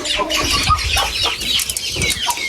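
Aseel chickens cluck and chatter continuously nearby, several birds overlapping in a busy, uneven jumble of calls.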